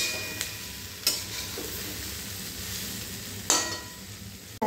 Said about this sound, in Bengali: এই ভাজা টোফুগুলোকে অ্যাড করে দিলাম। দিয়ে একটাকে মিক্স দিয়ে নেবো ভালো করে।